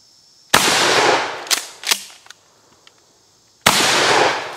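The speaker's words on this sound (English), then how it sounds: "Let's shoot that log and then shoot that watermelon" A Mossberg 590A1 LE shotgun fired outdoors at a log: two loud, sharp blasts a few seconds apart, each trailing a long rumbling echo, with a few smaller knocks and thuds between them.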